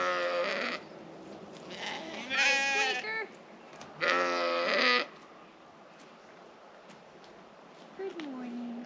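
Sheep in a paddock give several loud, close, wavering bleats in separate calls, with a softer call near the end.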